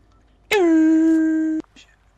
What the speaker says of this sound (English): Shut it, train.